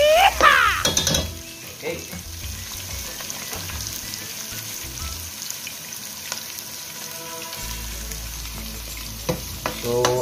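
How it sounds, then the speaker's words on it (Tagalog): Garlic and onion sizzle and crackle in hot oil in a pan, steady and close, with a brief stir and a short spoken word near the start. "mainit na ang mantika, bawang, sibuyas mga kasimple"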